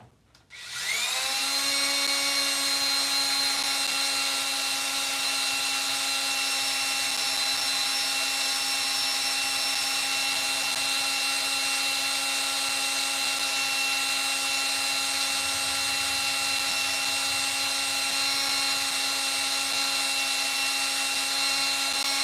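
Power drill with a mixing attachment stirs epoxy resin for live edge coasters, a loud continuous steady whine starting abruptly and holding an unbroken tone throughout.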